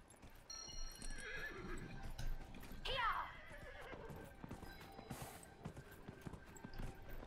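A horse in Dragon Age: Inquisition gives a loud, falling whinny partway through, amid steady clip-clop of hooves and ambient game noise, with faint talk underneath.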